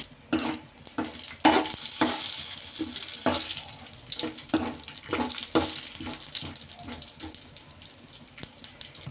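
A tempering of dried red chillies, chana dal, cumin and mustard seeds fries in hot oil in a kadai with crackling, popping sizzle and repeated spatula scrapes in an uneven rhythm, close and fairly loud.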